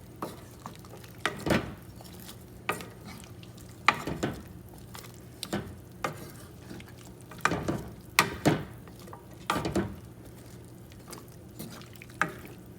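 Chicken and bitter melon sizzle in a pan with a soft, constant frying hiss, broken by intermittent scraping and clattering as a utensil stirs them every second or two.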